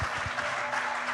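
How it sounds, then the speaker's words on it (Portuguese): Church congregation applauding during a sermon, a short burst of steady, moderately loud clapping with a faint hum underneath. "Você pode aplaudir a Jesus por isso."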